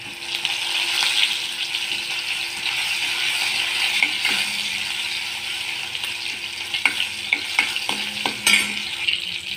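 Cumin seeds and garlic paste fry in hot oil for a spinach dish, giving a continuous bright sizzle with intermittent spatula stirs and scrapes, clearer clicks and pops toward the end, close up with no talking.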